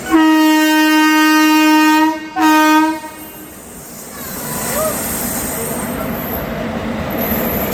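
The Puri–Tirupati–Bilaspur express sounds a long, loud horn blast, then a second shorter one, before rolling past close by with a steady roar and squealing wheels.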